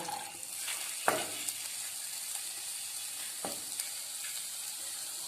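Ginger fries in hot oil in a pan, a faint steady sizzle with two sharp scrapes of a spatula against the pan, and no one speaking.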